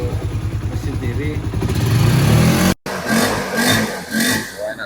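A used motorcycle engine, one of several secondhand bikes for sale including a 2015 model and a 2017 Honda CBR, idles in a steady rapid chug and then revs up, loud and close, with a person talking over it.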